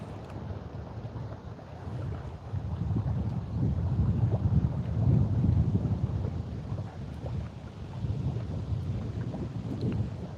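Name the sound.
wind noise outdoors while fishing on Lake Erie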